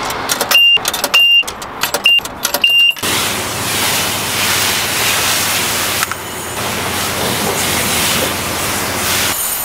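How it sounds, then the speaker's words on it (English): A Mazda RX-8 sits in an automatic car wash: a few mechanical clicks and whirs start things, then a loud, continuous rushing spray of water and machinery washes over the car. "So I'm gonna start the car wash right now"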